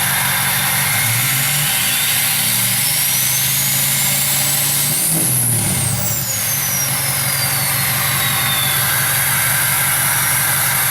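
A work truck idles through a newly fitted custom exhaust, a loud, deep, steady rumble that holds throughout, with no one talking.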